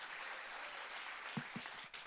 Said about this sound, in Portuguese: Aplauda com uma força, querido.